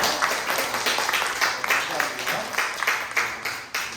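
A gathered crowd gives big applause, rhythmic clapping in unison with regular beats, fairly loud and close, carrying on for several seconds.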